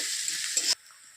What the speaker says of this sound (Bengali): পেঁয়াজ কুচি আর লঙ্কা কুচিটাকে ভালো করে ভেজে নেব।